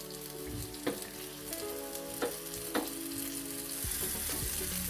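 Peppers fry in a pan with a steady sizzle, broken by a few sharp knocks of a utensil stirring them against the pan, close up and with no one talking.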